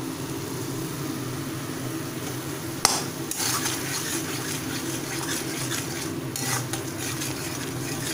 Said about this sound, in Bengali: আরও কিছুক্ষণ ধরে আমাকে মশলাটাকে কষাতে হবে যতক্ষণ না তেল ছাড়ছে